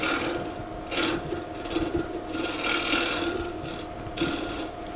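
Round nose scraper rubbing against a spinning piece of wood on a lathe, giving a steady near rasping scrape that swells in several brief stronger passes.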